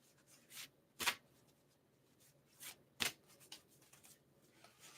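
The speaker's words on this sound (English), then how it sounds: "I think this is a new limit as to how I can riffle shuffle these" Tarot cards are riffle shuffled nearby: two sharp, rapid riffles stand out among softer rustles and card handling, all fairly quiet, with no speech.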